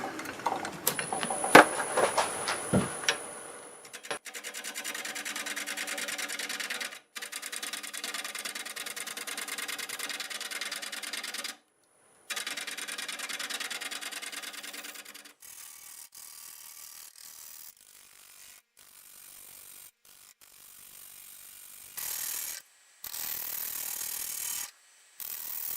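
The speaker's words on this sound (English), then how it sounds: "I'll use my 1/2-inch bowl gouge here" A half-inch bowl gouge scrapes into a maple burl spinning on a wood lathe in a series of harsh, rasping cuts separated by short pauses, close and fairly quiet, with no talk.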